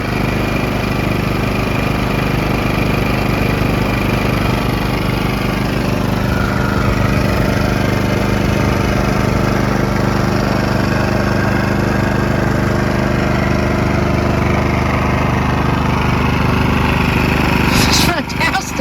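A Powersmart PS5025 2200W four-stroke OHV gas inverter generator runs steadily at full throttle with the choke down. A neighbor's lawn mower drones alongside it in one continuous, even engine hum that lasts the whole time.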